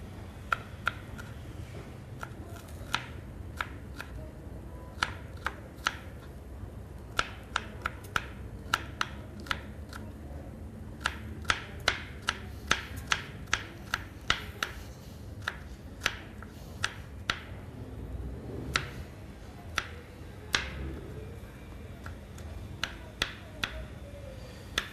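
Knife dicing red and green peppers on a cutting board while preparing a fillet steak dish: a steady run of crisp, sharp chops in irregular clusters, close and distinct over a low background rumble.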